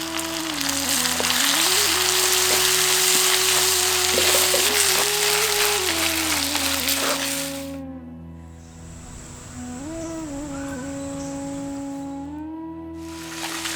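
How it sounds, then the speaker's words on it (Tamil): Loud sizzling and frying of tomatoes in a pan up close, with stirring scrapes, fading briefly before the hiss returns, under a faint background melody. "200 கிராம் தக்காளியும் சேர்த்து நல்லா வதக்க ஆரம்பிச்சிருவோம்"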